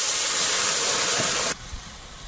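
Water poured into a hot pan while cooking river crab and fresh prawns gives a loud, steady steam hiss and sizzle that cuts off abruptly, leaving quiet background.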